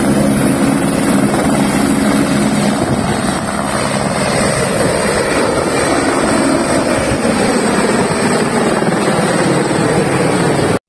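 A police helicopter flies over an operation in São Paulo's East Zone. Its loud, steady rotor and engine roar sounds close overhead for the whole stretch, with wind buffeting the microphone and no talk.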